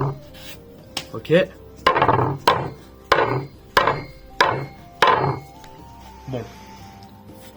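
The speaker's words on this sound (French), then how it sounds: "Donc là on va faire le test des cordes." A hand-forged knife slices through compressed rope in a series of about eight sharp cutting strokes at a steady rhythm, close and fairly loud, with a few brief words spoken between cuts.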